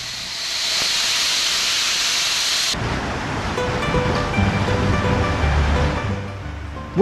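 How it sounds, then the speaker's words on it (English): Bamboo wheel filled with stones in Tenerife, heard as a steady hissing rush that turns midway into a dense, rattling clatter of stones tumbling inside as it rolls, fairly loud and close with no talk. "A bamboo wheel filled with stones. It makes a unique sound"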